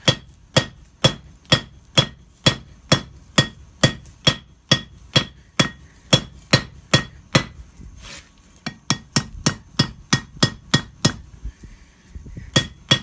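Hammer forging a horseshoe into a knife on an anvil, loud ringing metallic strikes in a steady fast rhythm of about two per second, with a brief pause and a quicker burst near the end.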